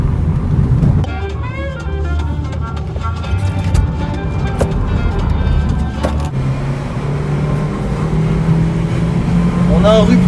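A Ford Fiesta with a 1.25-litre 60 hp engine drones and climbs in pitch as it is revved hard toward the limiter, a steady loud engine tone with a person talking over it.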